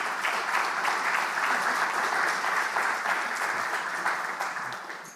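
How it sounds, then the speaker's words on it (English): An audience at a live panel on music copyright and creativity gives a dense, even round of applause that stays steady, then tapers off at the very end. "A round of applause to both of them,"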